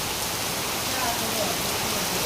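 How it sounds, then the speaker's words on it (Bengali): Heavy rain pours down steadily in a dense, even wash of noise with no distinct drops standing out, loud and continuous throughout the short stretch. "এটা যে বৃষ্টি হইতেছে"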